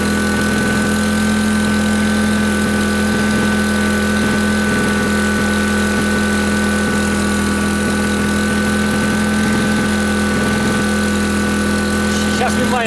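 A GENERGY IBIZA 1.0 kW inverter generator idles with a steady, even engine drone and hum, running continuously at constant loudness with no talk over it.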